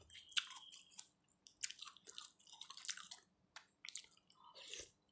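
Close, wet chewing and slurping of a clear-broth pork noodle soup with thin rice noodles and glass noodles, soft squishy bites in uneven bursts with brief pauses between mouthfuls.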